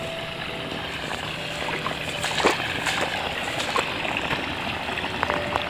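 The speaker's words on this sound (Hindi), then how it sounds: "पानी उधर खेतों से इधर भगा रहे हैं" Irrigation water running from one rice paddy into the next, a steady, broad rushing and sloshing flow close by with small splashes on top.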